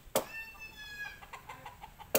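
A rooster chasing people gives a few quiet, short clucks, with sharp sudden knocks at the start and end of the brief stretch.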